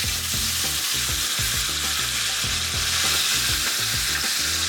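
Onions sizzle and fry in a cast iron pan, a loud, steady crackling hiss close by with repeated stirring scrapes, no one talking.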